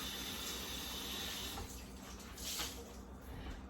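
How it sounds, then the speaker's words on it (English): A kitchen tap runs steadily while hands are washed beneath it, a close, constant rush of water with small splashy changes partway through. "And I'm gonna wash my hands off."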